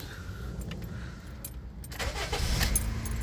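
A Honda Fit, its engine still cold, is started, with keys jangling near the ignition, a brief starter crank and then the engine catching into a low steady idle, close and fairly quiet.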